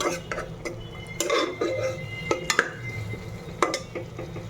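Spice masala being stirred and fried in a pan for khichuri, with scraping and clinking of a spoon against the pan in irregular bursts over a low background, fairly close.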